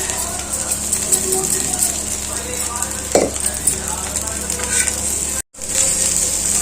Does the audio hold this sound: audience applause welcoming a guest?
no